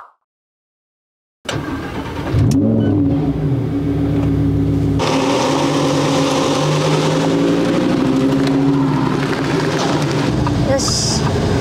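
After a moment of silence, a Lamborghini's engine fires up loudly and revs as the car pulls away, settling into a steady, throaty drone close by.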